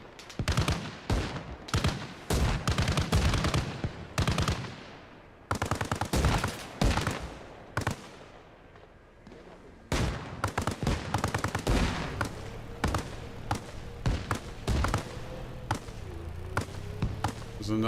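Rapid gunfire rings out in an ArmA Reforger battle with soldiers: sharp cracking shots in fast volleys and bursts, some loud and close, others thinner, with short pauses between strings and a low vehicle rumble building near the end.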